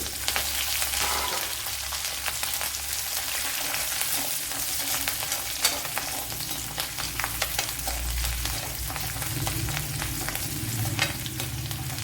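Steady sizzling and crackling of pepper, ginger, green chillies and garlic frying in hot oil in a pan, continuous and close, with occasional stirring scrapes and no voices.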